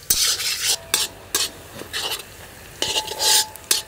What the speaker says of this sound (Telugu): ఈ ఉల్లిపాయలు బ్రౌన్ కలర్ వచ్చే వరకు వేయించుకోవాల్సిందే.